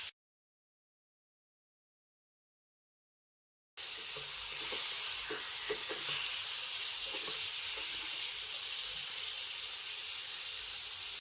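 Rohu fish pieces fry in hot oil in a pan after being turned over, a loud, even sizzling hiss that starts abruptly after a few seconds of silence and carries on unbroken.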